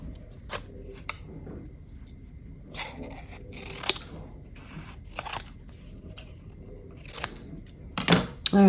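Scissors cutting paper shapes, sparse crisp snips and rustles close up with quiet gaps between, ending in a louder burst of cutting and paper handling.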